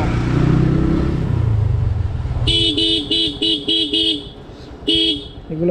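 Horn of an Apache RTR 160 motorcycle on a winding village road on a winter morning. A run of six quick, loud toots, then a single one, cuts over the steady hum of the engine and wind.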